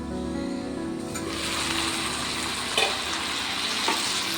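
A curry of tomatoes and broad beans cooks in a pan with a steady soft sizzle and a couple of brief knocks, close and even throughout.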